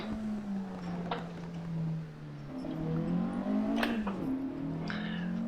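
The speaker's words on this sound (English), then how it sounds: "what I don't like with this car is the sound. It sounds a bit digital," A car engine in the Assetto Corsa racing game with a GT Legends style classic GT mod, revving up and down through gear changes with a synthetic, digital tone, heard alone.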